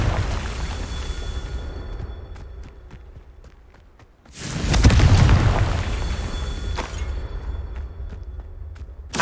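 Confringo blasting spells in Hogwarts Legacy hit with a sudden deep booming burst midway, rumbling then fading, after a stretch of lighter clicks and thuds from gameplay.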